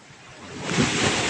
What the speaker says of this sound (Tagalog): dagko kayo ang balod